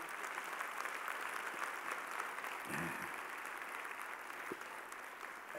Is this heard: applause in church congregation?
yes